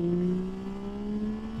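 A Yamaha Tracer 9 GT motorcycle engine revs close by, its steady tone rising slightly under throttle and holding loud for the whole short stretch, with no voices.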